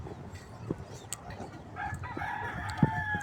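A Peruvian cross gamecock rooster crows in a rural breeding yard, a clear crow rising over soft background noise with scattered clucks from other fowl nearby.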